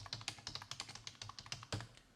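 Quick bursts of typing on a computer keyboard as a town name is entered, a dozen or so crisp close key clicks in an uneven rhythm ending with one firmer keystroke, quiet and without talk.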